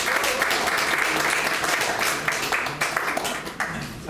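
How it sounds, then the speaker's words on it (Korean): Applause at a Korean political event for a by-election campaign gathering, dense steady clapping from a sizeable crowd, loud and continuous, thinning slightly toward the end. "박수!"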